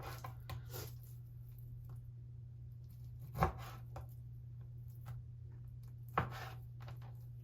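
A knife slicing raw chicken pieces in half on a cutting board for fajitas gives a few soft, sparse cuts and taps over a steady low hum, with no talking.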